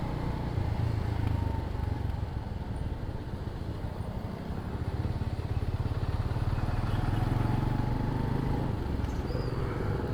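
A motorcycle rolls into the parking area of a public market, its engine a steady low rumble, fairly loud and continuous throughout amid outdoor market background noise.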